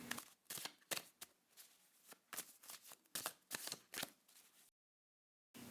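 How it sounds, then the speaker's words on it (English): A deck of tarot cards shuffled in quick bursts of riffling and slapping, close and crisp, with a brief silent gap near the end before another soft card sound. "First, I'll have you shuffle the deck."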